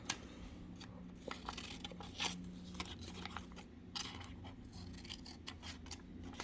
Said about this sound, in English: On this one, we'll cut 3 petals.